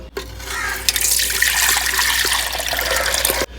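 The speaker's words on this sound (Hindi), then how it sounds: "तो अब इस पानी को लेते हैं जी छान।" Boiled herbal water with whey is poured and strained away from the herbs, a steady splashing stream of liquid running for about three seconds before stopping abruptly, with no talk over it.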